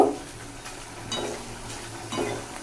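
Oil sizzling and crackling as chips fry, with occasional scraping stirs at a steady pace, close by.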